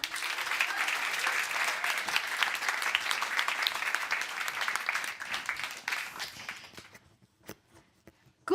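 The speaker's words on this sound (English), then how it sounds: "please give a warm round of applause" A live audience claps steadily at a recorded podcast event in Brussels, a dense, even wash of hands for about six seconds before thinning out to scattered claps and quiet.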